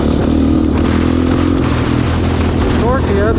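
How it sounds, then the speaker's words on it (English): A tuned Honda ATV engine with a snorkel, header and Big Gun exhaust runs close by with a throaty, steady drone, heard under people talking. "I love the snorkel sounds from the Honda setups."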